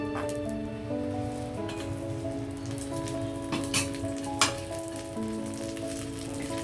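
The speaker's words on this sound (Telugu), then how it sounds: "నెయ్యి హీట్ అయిన తర్వాత మనం ఫస్ట్ వెల్లుల్లి వేద్దామండి." Garlic sizzles in hot ghee in a pan, a steady dense crackle like rain on a surface, close and continuous with a couple of sharp clicks, under a faint tonal hum.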